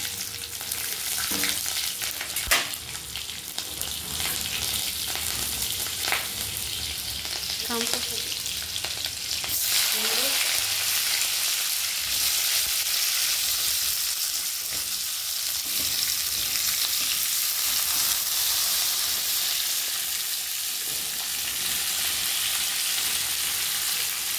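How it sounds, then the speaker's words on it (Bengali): Pumpkin curry fries in a pan, a loud, steady sizzle that runs the whole time, with occasional stirring scrapes near the start. "এবার বসাবো কুমড়োর তরকারি।"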